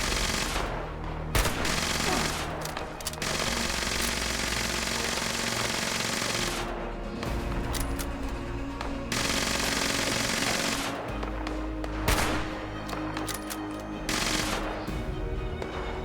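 Raiders fire at the player in the video game Fallout 76: dense, loud bursts of automatic gunfire roll almost continuously, with brief lulls between volleys.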